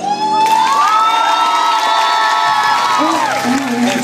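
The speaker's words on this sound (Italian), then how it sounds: "Un applauso." At an Istituto Elvetico end-of-year school party, an audience bursts into loud applause and cheering, with children shouting and whooping amid steady clapping, while a sustained sung or tonal note carries over the crowd.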